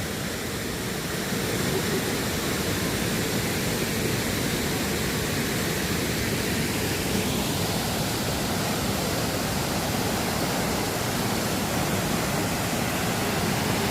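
Heo Narok waterfall, a very high cliffside cascade, producing a loud, constant broadband roar that fills the whole clip without letup.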